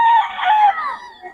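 Roosters at a poultry sale in Bocaue crow loudly and close, one long wavering call that trails off, with a few softer clucks at the end.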